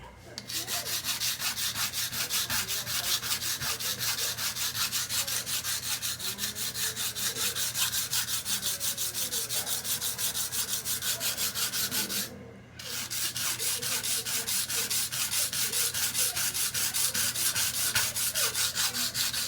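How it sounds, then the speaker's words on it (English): A broken knife tip is ground across a coarse Atoma 140 grit diamond stone in steady, rapid back-and-forth strokes, a continuous close scraping rasp with one brief pause near the end. "this is an Atoma brand 140 grit diamond stone"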